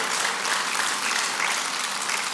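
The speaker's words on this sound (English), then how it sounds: "Round of applause, please." Steady, dense applause from an audience at a business school event, sustained evenly throughout at a moderate distance with no pauses.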